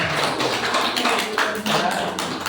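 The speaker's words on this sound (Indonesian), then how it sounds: "Tepuk tangan." A classroom of students claps together in a dense burst of applause during a lesson on the Quran, close and continuous throughout.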